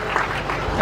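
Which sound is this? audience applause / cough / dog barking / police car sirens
audience applause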